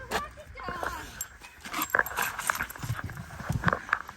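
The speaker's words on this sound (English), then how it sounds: "Shut up, dog." A dog whimpers and yips in an old house on a cold night, in short repeated cries that sit under close, steady talk.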